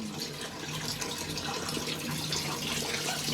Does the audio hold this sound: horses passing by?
no